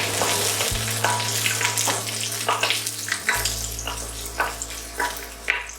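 Onion and garlic fry in a pan for a burrito filling, giving a steady close sizzle with scattered crackles and spits over a low droning hum throughout.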